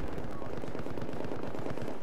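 Explosions in the Battlefield 4 game fill the clip with a dense, continuous, loud rumble of blasts and gunfire-like cracks, with no pause.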